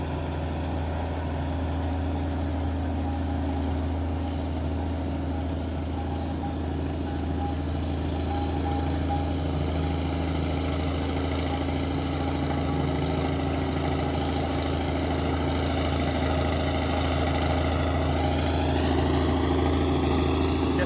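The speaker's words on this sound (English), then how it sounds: "It's a diesel engine," Big Detroit supercharged diesel traction engine idling at a steam rally, a steady low throbbing rumble with a constant whine above it, continuous and moderately close, with no speech heard over it.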